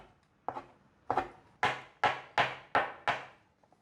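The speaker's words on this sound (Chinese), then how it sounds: "在把这个香菇切片，再把它叠起来切丝" A knife chops a sliced shiitake mushroom on a cutting board, giving about seven crisp, evenly spaced knocks, each with a short ring-out, close up and clear with no talking.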